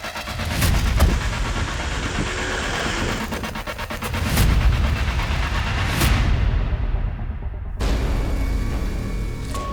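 A motorbike engine roars loudly and steadily during a police chase after kidnappers, its dense rumble mixed with heavy background noise and broken by a sudden cut near the end.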